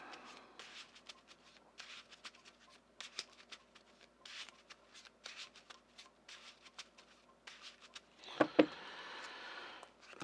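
A deck of cards shuffled loosely during a Marvel Champions tabletop game, with repeated quick riffling bursts in a steady rhythm, close and faint, followed by a short louder clack and rustle near the end. No one speaks.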